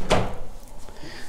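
A door in a modern single-story house in Henderson is pushed shut, giving one close, solid thud that quickly fades into quiet room tone.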